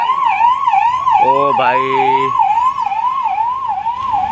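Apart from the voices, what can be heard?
ambulance sirens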